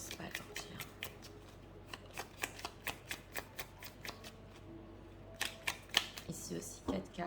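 Oracle cards being shuffled by hand, a run of crisp, close riffling flicks in an irregular rhythm, with a voice speaking quietly underneath.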